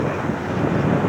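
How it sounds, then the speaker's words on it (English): Strong wind buffets the microphone high on Casper Mountain in Wyoming, a loud, steady roaring rumble with no pauses over its brief length. "it's very windy up here"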